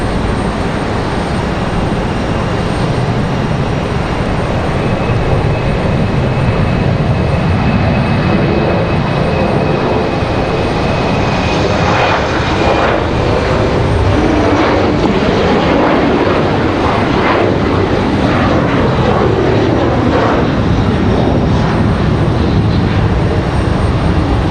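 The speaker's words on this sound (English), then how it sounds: "Looks like we've got Breeze Airways getting out of here now." A Breeze Airways Embraer E190 jet takes off from Raleigh Durham International Airport, a long loud engine roar that builds and grows richer midway as thrust rises, heard alone.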